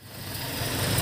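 A Toyota 7K engine, just rebuilt with a new cylinder head gasket, idles with a steady low rumble and slight vibration, close and continuous with no talking.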